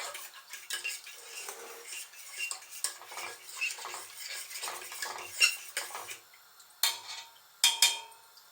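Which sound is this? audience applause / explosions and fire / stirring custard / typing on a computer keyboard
stirring custard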